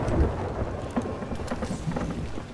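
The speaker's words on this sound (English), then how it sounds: "Oh, there's a storm." A thunderstorm rolls in during the pirate video game Sea of Thieves, with a dense wash of rain and a deep, rumbling thunder that swells and fades. No one speaks over it.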